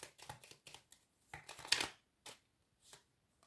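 Oracle cards being shuffled and one drawn from the deck, a run of quick soft papery slaps and riffles in short bursts close by, then a few isolated flicks with pauses between.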